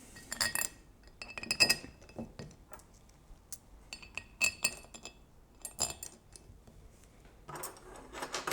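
Metal bolts clink and jingle in bright, sharp bursts as they are picked up and handled, several clustered rattles separated by short quiet gaps, close and clear.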